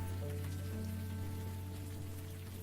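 Steady rain falls in the video game Unavowed, a soft continuous patter with a faint musical drone underneath and no voices.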